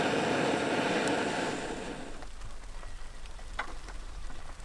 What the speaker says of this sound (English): Because a new cloud of rain came by.